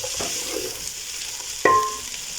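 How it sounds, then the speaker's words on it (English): Rice dish with boiled beans being stirred in a pan, soft scraping and a light sizzle, with one sharp clink of a utensil against the pan. "give it a nice mix"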